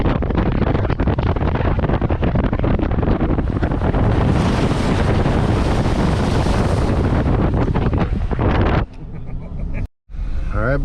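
A vehicle rolls along a remote wilderness road toward deep puddles, with loud, continuous rushing and splashing wash that cuts off abruptly near the end.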